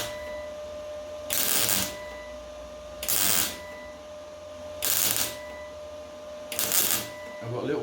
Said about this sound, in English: you can hear a good weld